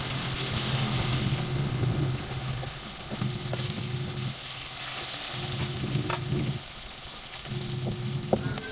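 Food frying in a pan on a stove, a steady loud sizzle that swells and dips in waves as pieces are turned, continuous throughout with no talk.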